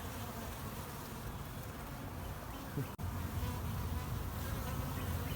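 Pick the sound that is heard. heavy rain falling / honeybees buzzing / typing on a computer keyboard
honeybees buzzing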